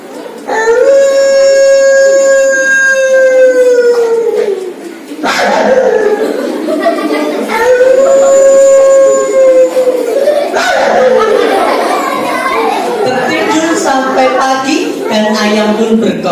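A storyteller's voice imitates a pack of wolves howling at night, with long, rising-and-falling howls repeated several times, loud and close.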